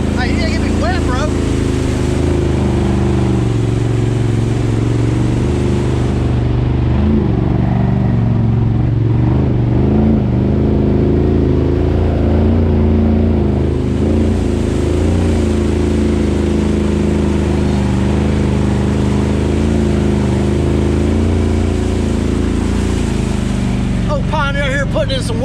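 An off-road vehicle with two-wheel drive revs hard and continuously at a mud pit. The engine drone is loud and sustained, and voices are faintly audible underneath.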